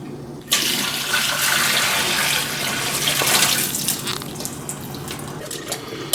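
Water runs steadily from a kitchen tap as food is rinsed for Puerto Rican pasteles, a loud, continuous splashing flow that starts abruptly and then slowly eases toward a trickle.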